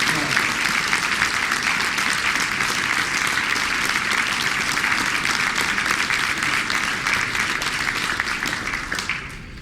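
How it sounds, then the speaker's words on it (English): A warm, dense round of audience applause at a women's conference in a Los Angeles hotel, loud and sustained with no voices, easing slightly at the very end. "a warm round of applause"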